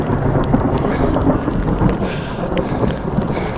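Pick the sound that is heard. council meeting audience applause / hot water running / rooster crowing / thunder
thunder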